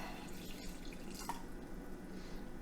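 Water trickles and drips as it is poured into a pork and turnip stew, a faint, steady liquid sound against a low background.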